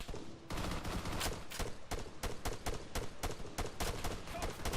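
Rapid bursts of automatic gunfire in the ArmA 3 video game, aimed at an enemy machine gunner, crack out loud and dense across the whole stretch, with sharp repeated reports and no talking.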